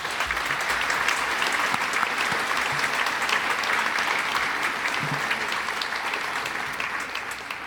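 Audience at a fashion school runway gala breaks into sustained, dense applause, a steady wash of clapping throughout that tapers slightly at the close.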